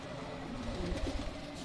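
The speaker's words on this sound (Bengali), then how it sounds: "এখানে এক জোড়া জোড়া দিয়েছি রেসার কবুতর বিভিন্ন জাতের করার জন্য" Low, soft cooing from several racing pigeons close by, a steady murmur with a few louder rolling coos near the end.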